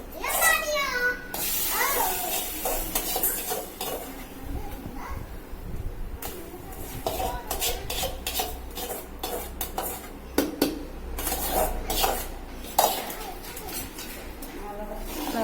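A ladle clatters and scrapes against a metal pot while stirring spinach kadaiyal, a cooked greens dish, with repeated clinks over about fifteen seconds as people talk nearby and a voice is heard.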